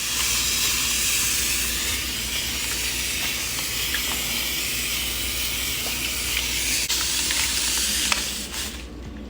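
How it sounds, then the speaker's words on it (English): A spray bottle mists a houseplant in a continuous, loud, close hiss that holds steady for about eight seconds before tapering off. "let's go ahead and just mist her like usual"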